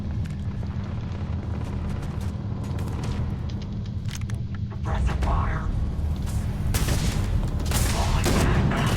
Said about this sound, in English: There's some gunfire going on over there.